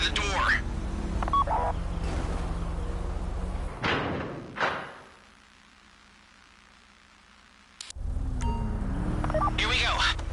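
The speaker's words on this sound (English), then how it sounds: "Take out your phone and trigger the door." Phone keypad tones trigger a heist vault door in the video game GTA 5, with a thud as the door opens over a steady game background hum; a quiet stretch follows before the ambience returns.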